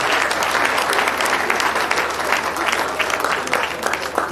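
Loud, close applause from an audience at an engineering society graduate induction ceremony, honoring a university Vice-Chancellor, with dense rapid clapping that carries steadily throughout, rising and falling slightly, with no speech over it.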